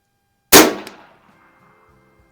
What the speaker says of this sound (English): But 2 shots, I kept them on the splatter burst so far.